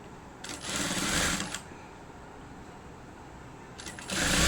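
Sewing machine stitching a blouse, two short bursts of fast mechanical whirring with a quiet pause between, heard close and fairly faint, no talk over it.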